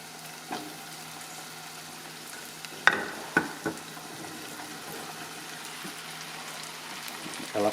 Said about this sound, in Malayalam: ഇനി ഇതിലേക്ക് നമ്മൾ കഴുകി വൃത്തിയാക്കി വെച്ചിരിക്കുന്ന മുന്തിരി ഇട്ട് കൊടുക്കാം.